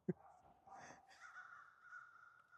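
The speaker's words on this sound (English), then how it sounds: "I don't know what those crows are talking about, but they seem to be having a good time back there." Several crows caw out of doors behind a front porch build, a few short hoarse calls overlapping in quick succession at moderate distance.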